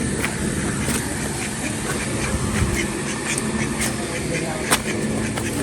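Ducks quack in short, repeated calls against a steady background noise at a farmyard coop, moderately near, with a person talking nearby.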